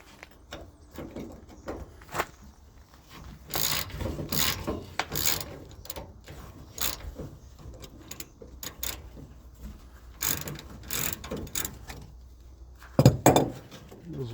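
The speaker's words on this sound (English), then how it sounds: "now the bolt's turning" A wrench ratchets and clicks as a bolt turns on a Gehl flail chopper, with a series of close metallic clicks, clinks and knocks in irregular bursts and a louder clatter near the end, without speech.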